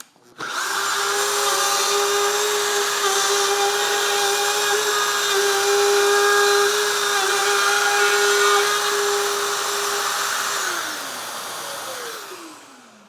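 A power tool's bit whines steadily as it cuts an opening outward from a pilot hole for an outlet box, running loud and continuous for about ten seconds before spinning down.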